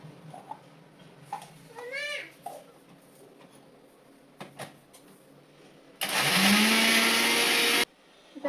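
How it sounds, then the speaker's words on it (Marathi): A kitchen mixer grinder whirs loudly for about two seconds as it purées garlic, ginger, green chili and coriander, coming after quieter household sounds and a brief high-pitched cry. "त्यासाठी मी मिक्सरमध्ये लसूण, अद्रक आणि हिरवी मिरची घेतली आहे."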